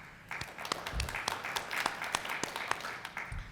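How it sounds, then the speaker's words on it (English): An audience at a school board workshop gives scattered applause, light separate claps at moderate distance, fairly quiet and uneven over a few seconds. "You all didn't know you're going to get clapped for this morning."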